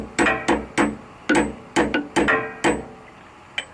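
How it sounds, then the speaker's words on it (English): A hammer strikes a steel drift punch in a series of sharp taps, about eight in uneven rhythm, ringing briefly, close and loud, during a Pontiac GTO coilover installation. "Got my little hammer, got my drift."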